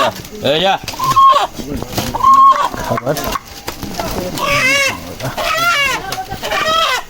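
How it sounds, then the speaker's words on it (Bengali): A rooster in a hill village in Bangladesh, about to be slaughtered, gives repeated loud, close clucks and short squawks in uneven bursts, with people's voices mixed in. "আমরা আজকে এই রাতা মুরগিটা জবাই করব।"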